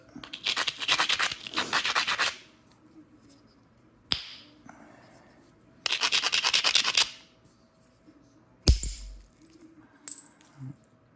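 Flint edge being raked back with a hammerstone to prepare a striking platform for direct-percussion knapping: two bursts of close, gritty scraping strokes, each about two seconds long. Sharp single knocks and clicks are heard between and after them.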